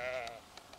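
A sheep gives one loud, close, drawn-out bleat within a running flock of sheep and goats on open pasture, followed by a few faint short calls from the herd.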